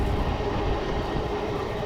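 A MEMU train, number 67204, on the Sri Kalahasti to Nellore run near Manubolu station, gives a steady, close rumble of running wheels and carriage noise that holds even throughout.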